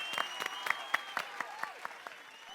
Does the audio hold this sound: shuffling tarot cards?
no